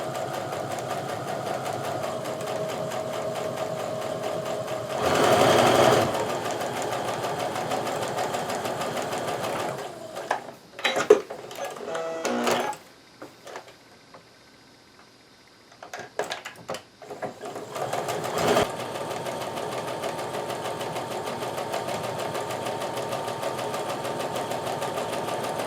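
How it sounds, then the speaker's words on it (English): A sewing machine runs in steady bursts stitching a scant quarter-inch quilt seam, with pauses, brief handling clicks and a quiet stretch between runs. "now I'm just going to sew that scant 1/4 inch seam"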